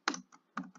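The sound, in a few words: pressing Enter key on computer keyboard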